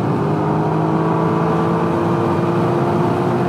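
A motorcycle engine under hard throttle through a tough corner at night, heard as a loud, continuous close-up roar with a steady droning pitch and no speech.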